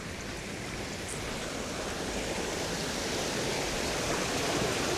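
Water rushing through the turbine of a 300-year-old village water mill, a steady dense roar close by that stays constant for the whole stretch with no voices.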